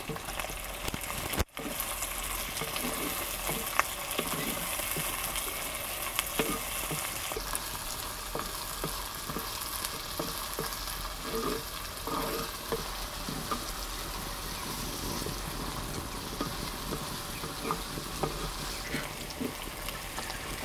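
Onions and sliced green chillies fry in a pan for a brinjal curry, a steady close sizzle with frequent light scraping and stirring clatter running throughout, no voices.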